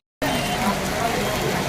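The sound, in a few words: rain falling in a village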